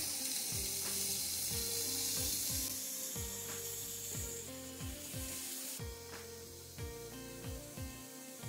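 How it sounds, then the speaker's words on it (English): Food fries in a well preheated iron pan, a bright hiss with soft crackles and some scraping and knocking, fairly faint throughout with no talk. "Let's fry. Oh yes, well preheated pan."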